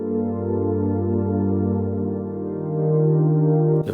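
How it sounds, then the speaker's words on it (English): A Spitfire Audio LABS synth pad holds smooth, sustained chords with a rich, steady harmonic layer, shifting to a new chord partway through, playing alone at a constant, fairly loud level. "We've got some pads. Let's have a listen."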